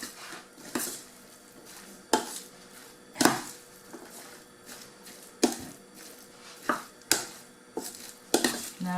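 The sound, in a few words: mixing chopped vegetables for spring roll filling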